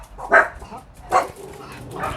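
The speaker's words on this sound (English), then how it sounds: "There was a dog in a car." A dog inside a car gives a few short barks and yips, close and fairly loud, with quiet pauses between them.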